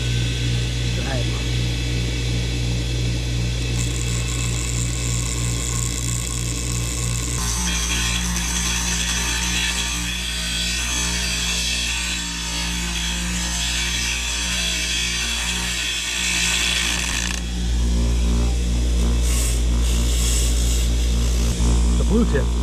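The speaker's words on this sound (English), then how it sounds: "I'm gonna be doing it with the grinder." Angle grinder working on an Arrma Big Rock RC car during a garage repair, a steady harsh whine that switches on partway and runs several seconds over background hum, with talking throughout.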